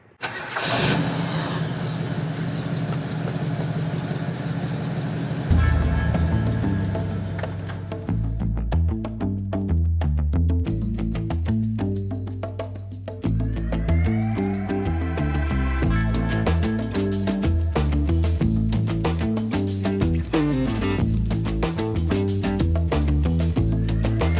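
A 1966 Oldsmobile Toronado starts up with a whirring crank, catches into a rough idle, then drives off with its engine rising and falling through revs and gear changes, close and steady throughout, no talking.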